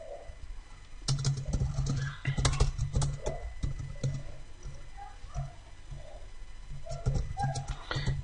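Rapid typing on a computer keyboard, close and clear, with bursts of clicking keystrokes that pause and resume, a few louder key strikes standing out.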